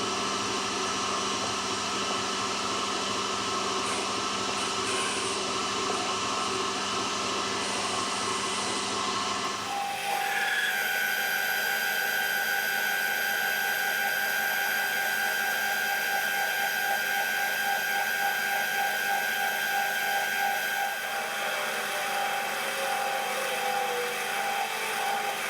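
A metal lathe parts off a steel shaft for a hand winch build, a steady machining drone whose tone shifts partway through as the cut deepens, with a thin whine from the tool, close and continuous with no talk.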